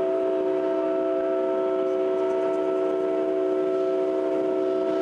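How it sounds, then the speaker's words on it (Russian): A diesel locomotive horn sounds a long, steady, loud blast signalling the start of a factory shift, held for the whole stretch without a break. "Гудок тепловоза оповещает о начале смены."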